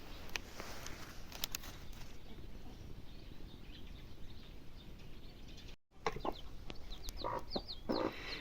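Hens clucking and calling in a Ukrainian village yard on an autumn morning, soft irregular clucks and short calls, fairly distant and faint over steady outdoor ambience, no talk.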